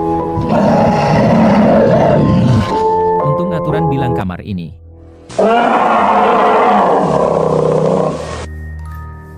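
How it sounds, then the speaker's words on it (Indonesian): Forest bears roaring in an animated cartoon, deep growling roars in two long loud bursts, with a voice speaking briefly between them and music tones underneath. "Kenapa ada banyak beruang hutan? Mereka bergegas menuju kita."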